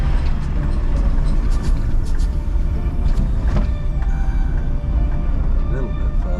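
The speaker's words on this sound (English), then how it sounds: "Excuse the engine noise." A car engine labours steadily uphill through the streets of Gibraltar, a continuous loud low drone with road rumble running throughout, while someone talks over it.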